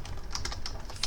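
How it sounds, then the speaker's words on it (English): Quick, close keystrokes tap on a computer keyboard in a short burst of several clicks, steady and crisp with no talk over them. "This is just some typing."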